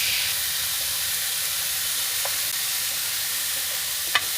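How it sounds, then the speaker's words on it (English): Lean hamburger browns with onions in a pan, giving a loud, steady, close sizzle and hiss that carries on without a break, with a faint scrape or two near the end and no talking. "First, he browns up some good lean hamburger with onions."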